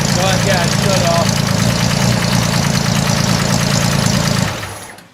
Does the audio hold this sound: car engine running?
yes